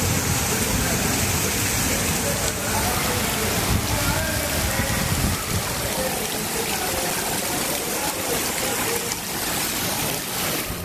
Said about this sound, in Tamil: தமிழ்நாட்டின் பல்வேறு பகுதிகளிலும் பரவலாக கனமழை பெய்தது